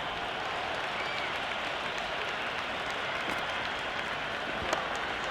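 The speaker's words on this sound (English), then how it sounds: "The crowd is electric right now." Stadium crowd in the video game Cricket 26 during an England versus New Zealand match, cheering and applauding a big hit as a steady, broad roar that holds at an even level throughout, with a small spike near the end.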